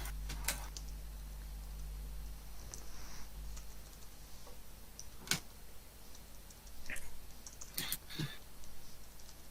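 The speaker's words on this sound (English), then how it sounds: "And my typing is really bad too." Irregular clicks and taps from typing on a computer keyboard, scattered keystrokes with short bursts and pauses, moderately close over a steady low hum.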